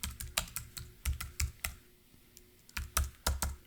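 Bursts of computer keyboard typing while coding, with irregular clusters of close, crisp key clicks separated by a brief lull in the middle; no talking.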